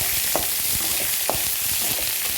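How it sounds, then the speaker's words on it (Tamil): Onions sautéing in a pan for kara kozhukattai, with a dense, continuous hissing sizzle and a few soft stirring taps underneath, close and steady throughout with no talking. "இந்த வெங்காயத்தையும் போட்டு நல்லா வதக்கணும்."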